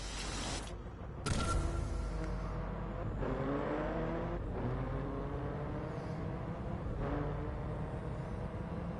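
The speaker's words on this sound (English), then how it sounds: "Just nice kind of quiet road sound" Steady tyre and road roar from a car cruising in the racing game Driveclub VR, a continuous smooth hum with faint shifting tones and no distinct engine note.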